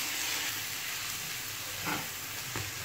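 A spoonful of turmeric frying in a little oil in a home vegan kitchen, a soft continuous sizzle with a couple of brief stirring clunks near the end as rice and lentils go in.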